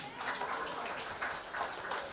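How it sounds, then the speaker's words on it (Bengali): Applause and clapping for Mousumi at an award ceremony for selected West Bengal Police constable candidates, a faint, steady patter of many hands from a crowd, fairly distant and continuous. "মৌসুমীর জন্য জোরে হাততালি।"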